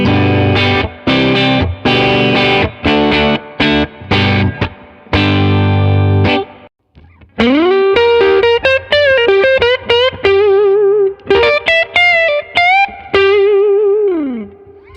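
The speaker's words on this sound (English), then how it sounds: "We're going to hear the Les Paul next." Gibson Les Paul electric guitar through a CARR amp with effects, first strummed chords with distortion, then a chorus-tinged melodic lead with sliding notes, loud and close.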